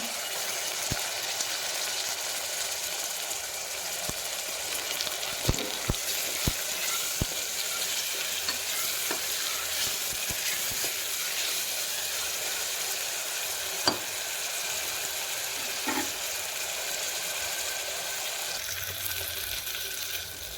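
Chopped tomatoes sauté in a pan for a green chili chicken masala, giving a steady, even frying hiss with a few sharp clicks of stirring over the whole stretch.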